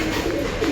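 Pigeons coo in a breeding loft, a steady low burbling that runs unbroken and close for under a second.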